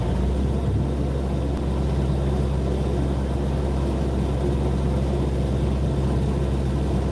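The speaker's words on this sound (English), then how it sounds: "You probably won't be able to hear me over the din of the engine" A narrowboat's engine runs steadily on deck, a loud continuous low rumble with a constant droning hum and no voices over it.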